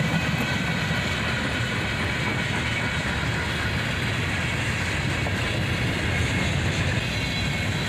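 A CSX freight train rolls steadily past nearby, a graffitied tank car among its cars, with continuous loud wheel rumble and rhythmic clickety-clack over the rails and no pauses.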